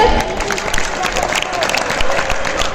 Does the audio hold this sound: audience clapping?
yes